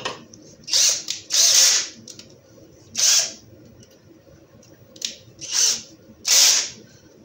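A cordless screwdriver on its first speed spins a cheap milling cutter while repairing a driveshaft: six loud whirring bursts of about half a second each, separated by short pauses, close to the microphone with no talk.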